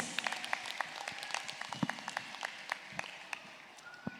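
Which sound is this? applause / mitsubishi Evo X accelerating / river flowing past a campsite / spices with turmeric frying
applause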